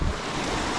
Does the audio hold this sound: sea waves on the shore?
yes